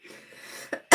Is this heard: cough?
yes